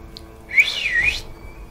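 A single clear, rising and falling whistle is blown in the video game Sekiro, lasting under a second against a quiet background.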